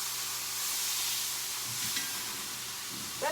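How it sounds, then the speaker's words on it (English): Pork sears in a hot pan with a steady, close hiss and sizzle, brief bursts of crackle near the end, and no voices. "Now I'm going to let this side sear."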